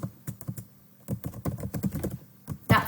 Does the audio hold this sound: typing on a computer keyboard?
yes